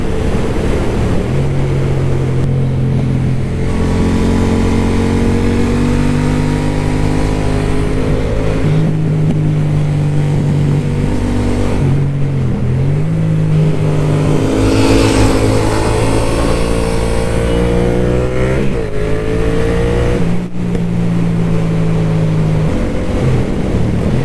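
Yamaha MT-07 motorcycle engine pulling steadily under acceleration during a ride, the loud continuous drone rising and falling in pitch through gear changes, with heavy wind rush over it throughout.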